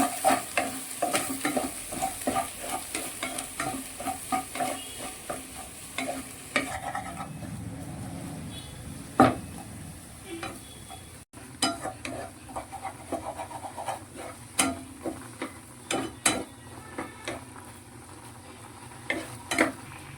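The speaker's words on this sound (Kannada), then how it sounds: "ಒಂಚೂರು ಮ್ಯಾಗಿ ಮಸಾಲೆ ಆ್ಯಡ್ ಮಾಡ್ಕೊಳ್ತಿದ್ದೇನೆ ಇದಕ್ಕೆ. ಹೀಗೆಲ್ಲ ಒಟ್ಟಿಗೆ ಮಿಕ್ಸ್ ಮಾಡ್ಕೊಳ್ಳೋಣ." Stirring and scraping in a frying pan as Maggi noodles are mixed with masala and two eggs, steady clatter and scrapes over a soft sizzle, close and moderately loud, with brief louder knocks.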